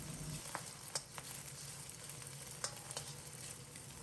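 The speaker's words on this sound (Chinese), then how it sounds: "把鸡蛋炒熟炒散" Beaten eggs stir-fry in hot oil in a wok, giving a steady close sizzle with a few sharp clicks of a spatula scraping the pan.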